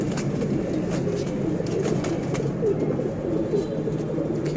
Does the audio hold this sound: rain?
no